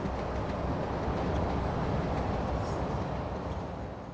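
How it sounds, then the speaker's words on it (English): A hot-water weed-control train on Swiss federal railway tracks runs steadily with a loud, broadband rumble. The noise stays even for about four seconds and eases slightly at the end, with no voices. "It's a train with lots of hot water on it that runs across the tracks"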